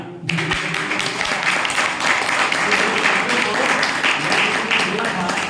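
Audience applause at an open meeting speech in Gurgaon, Haryana: dense, steady clapping from a crowd that starts abruptly and continues evenly throughout, loud and close.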